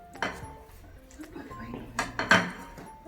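Steel spoons and dishes clink together in a home kitchen in a few short, sharp knocks and rattles, close by, while voices talk in the background.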